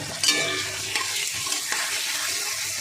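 Chopped tomato and turmeric sauté in a hot pan with a dense, steady sizzle and the brief scrape of stirring, close and loud throughout.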